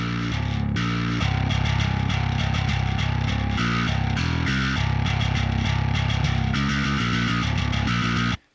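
An electric bass riff run through an effects plugin, driving steady pumping eighth notes with a thick, distorted tone, loud and alone until it cuts off at the end.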